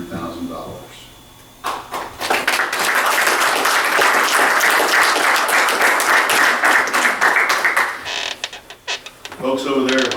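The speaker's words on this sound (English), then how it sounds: "I think they're still cheering." Audience at a Greenwood city council meeting breaks into loud, sustained applause and cheering after a grant announcement, steady clapping filling several seconds before fading, with talk at the start and end.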